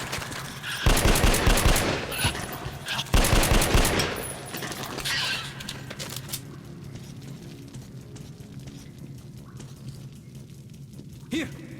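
Bursts of rapid automatic gunfire in Metro Last Light, two loud volleys in the opening seconds, then fading into a low rumbling game ambience with a brief sharp hit near the end.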